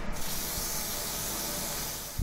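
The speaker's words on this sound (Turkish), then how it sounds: "Evet, bu da çiçekçi Nusret'in sprey sıkışı" A florist's spray bottle hisses in one continuous, close, loud burst of mist over flowers, lasting about two seconds.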